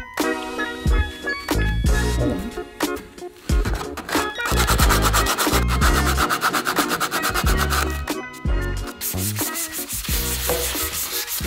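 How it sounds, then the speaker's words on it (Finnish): Hard sanding of old paint lines off wood indoors in a fireplace room under renovation, a loud, close, continuous abrasive rasping that surges and eases with each stroke and runs throughout. "Saadaan pois tämmöset vanhat maalijanat täältä. Koitetaan tälle kovaa hioa niitä."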